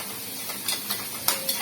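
Chopped onion sizzles and fries in melted butter in a pan, a steady close hiss broken by a few sharp clinks and scrapes as a spoon stirs it.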